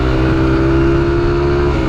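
A car engine runs steadily and loud at close range, a sustained low drone with a firm tonal hum throughout, no voices over it.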